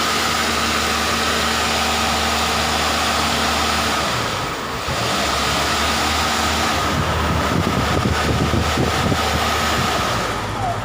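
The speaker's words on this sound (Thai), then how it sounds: "ตัวนี้เป็นพัดลมระบายความร้อนนะครับ" Cooling fan on a solar-powered 3 HP, 3-inch water pump runs with a loud, steady whir and hum, broadband and continuous, with a brief dip near the middle and rougher fluttering toward the end.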